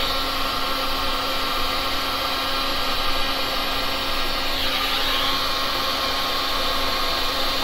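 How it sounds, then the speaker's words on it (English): A hair dryer blows a steady, loud rush of air across poured resin colors, a constant whooshing hum with no pauses and no talking. "I'm just trying to blow the colors over each other."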